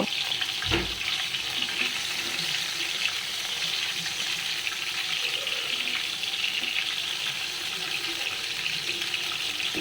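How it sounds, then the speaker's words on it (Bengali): Boiled eggs coated in turmeric and salt fry lightly in oil in a pan, giving a steady, even hiss that runs throughout, with one brief low knock near the start. "এবার ডিমগুলোকে ফ্রাই প্যানে হালকা একটু ভেজে নিব"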